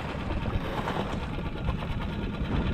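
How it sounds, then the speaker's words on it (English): A small outboard engine on a folding boat runs steadily at idle-to-mid speed, a close, continuous buzzing drone with a slight knocking pulse throughout. "I'm gonna turn the engine off"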